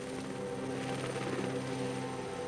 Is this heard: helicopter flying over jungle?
yes